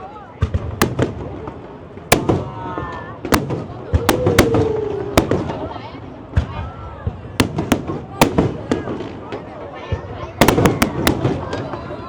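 Fireworks burst over a waterfront during a Vietnam National Day celebration, sharp bangs and crackles arriving irregularly and in clusters while a crowd chatters and people talk nearby.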